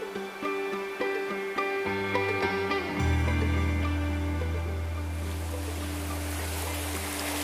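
Heavy river current rushing past a drifting fishing boat heading downstream, a steady broad wash of moving water that deepens and grows louder partway through, with no talking.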